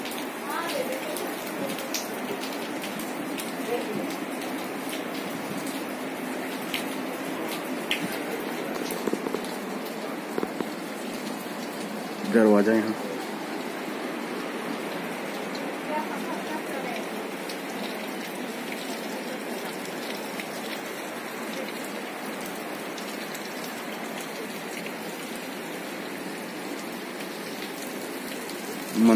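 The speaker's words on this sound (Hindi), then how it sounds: "पानी ऊपर से गिर रहा है" Water falling from above inside the Kailash cave, a steady soft splashing like rain on stone, moderately distant and continuous, with a brief spoken voice partway through.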